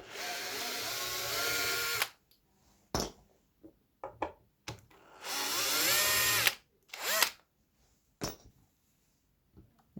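A power drill drives out screws while replacing faulty speaker wire, in repeated whirring bursts of a second or two separated by pauses, loud and close, with no voices.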